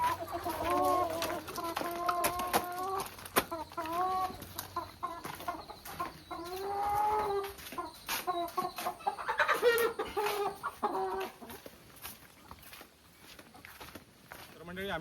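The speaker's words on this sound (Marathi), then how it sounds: "चार कोंबडी घेतलो गंधरावकडे दोनच पिशवेत" Several chickens cluck and squawk close by in irregular bursts, with people talking over them and some shuffling movement nearby.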